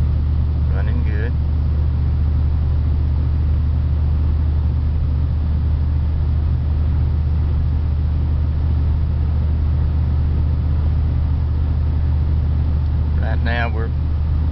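A wood-gas powered vehicle cruising along, its engine giving a steady low rumble with road and cabin noise, heard from inside, with brief talk near the start and end.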